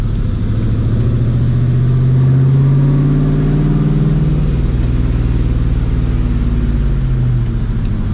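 Supercharged New Edge Mustang GT cruising at about 2700 RPM on light throttle, its engine droning loud and steady with a rising, then falling whoosh, no voices over it.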